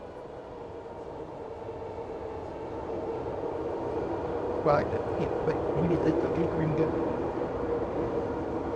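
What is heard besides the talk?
train passing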